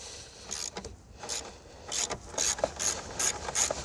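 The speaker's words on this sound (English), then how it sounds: "I'm just gonna undo the tie down here, just enough to make sure that I can move the battery at least." Ratchet turning a few times to loosen the battery tie-down under the hood of a Hyundai Veloster, a series of close, quick clicking bursts with no talking.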